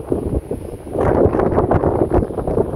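Strong gusty wind buffets the microphone at Sanxiantai Dragon Bridge on the Taiwan coast, a loud, rough rumble that rises and swells throughout.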